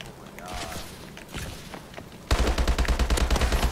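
A new gun fires in Call of Duty Advanced Warfare gameplay: after a stretch of quieter game sounds, a loud, rapid burst of automatic fire kicks in with evenly spaced shots.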